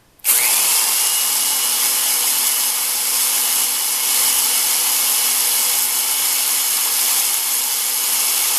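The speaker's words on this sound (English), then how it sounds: "And just poke a 1/4 inch hole here." Power drill boring a quarter-inch hole for a lawn roller hitch, a loud steady high whine that starts abruptly and runs unbroken, close and alone.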